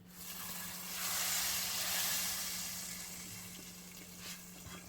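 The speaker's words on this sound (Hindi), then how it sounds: "यहाँ जो है हम लोग ये बघार जो हमने बनाया था ये हम लोग इसमें डाल देंगे" Tempering (baghar) poured into a chickpea curry for halwa puri cholay crackles and sizzles in a steady broad hiss that swells in the first two seconds, then slowly settles. No one speaks.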